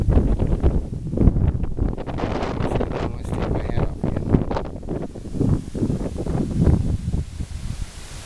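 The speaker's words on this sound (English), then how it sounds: "He just wanted to go in the house because the wind's kicking up." Strong gusty wind blowing outdoors near oak trees, buffeting the microphone in loud uneven rushes with rustling throughout, while a person speaks over it at times.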